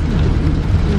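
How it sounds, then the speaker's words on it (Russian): A heavy tropical downpour in Asia whipped by gusts of wind, a dense, loud, continuous roar of rain with low rumbling underneath. "Прекрасный ливень. В Азии просто такие порывы ветра и ливня."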